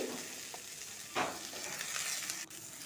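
Potatoes and onions fry in a pan for chickpea ghugni, giving a steady close hiss of oil with a brief scraping stir partway through.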